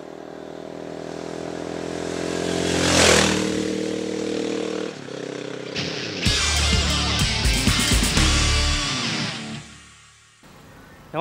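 A KTM Duke motorcycle engine drones steadily, then rises into louder, rougher revving before cutting out abruptly near the end.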